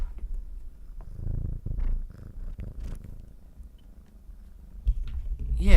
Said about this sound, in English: Listen to this cat purr.